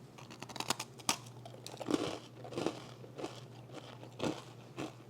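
Crisp crunching and chewing of a crunchy matcha white chocolate cookie, heard close up as a series of irregular bites and crackly chews with no talking.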